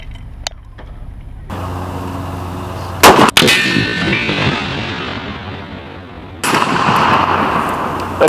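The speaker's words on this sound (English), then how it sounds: "Today we're going to be shooting 600 grain ball from 100 yards." A Barrett M99 .50 BMG rifle firing 600-grain ball at a steel silhouette target from 100 yards: one sharp, very loud blast that rolls into a long booming echo, followed later by another loud burst of noise.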